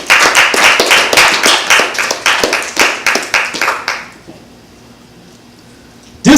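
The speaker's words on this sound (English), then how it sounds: "Give Almighty Yah a hand clap praise." A congregation claps in praise during a church service, with loud rhythmic hand claps for about four seconds before they stop and a quiet room follows.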